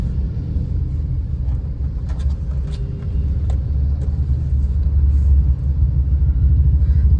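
A Tata Punch with a three-cylinder engine runs through heavy traffic, giving a steady low rumble that holds even throughout, with a few faint ticks above it.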